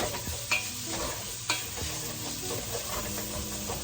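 Sausage fries and is stirred in a pan, the first step of a homemade copycat Zuppa Toscana. A steady sizzle runs throughout, broken by a couple of sharp scrapes and knocks from the stirring utensil. Nobody speaks.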